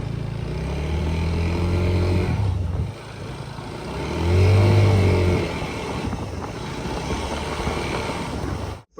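A motorcycle with worn, slipping clutch plates revs up and down in several loud surges, the engine note climbing and falling as RPM rises without the bike pulling forward, heard close and alone.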